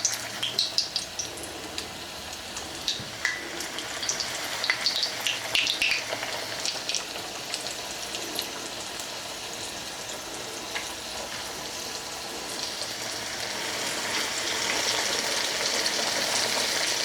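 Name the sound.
chicken frying in oil in stainless steel skillet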